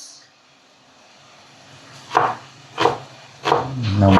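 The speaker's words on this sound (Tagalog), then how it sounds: "Yung ating paggagayat ni Amiga ng kanyang sibuyas." A knife chops an onion on a board in a few distinct, close knocks spaced under a second apart, after a quiet stretch, with a faint low voice murmuring near the end.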